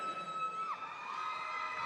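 A crowd at an Idol Fight 5 boxing event cheers and shouts for fighter Jolong, a distant, diffuse roar of voices with a few whoops and a whistle-like tone, no clear speech.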